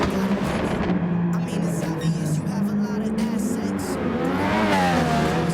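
A GT race car braking late into a corner at Brands Hatch in Gran Turismo Sport: a loud, steady engine roar whose pitch sweeps downward as it slows, with a brief tire squeal near the end.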